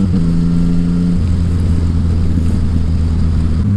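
A Yamaha Tracer 900 motorcycle with a Healtech quick shifter changes gear without the clutch. A loud, steady engine drone runs throughout, its pitch dropping sharply at one point as the shift goes through.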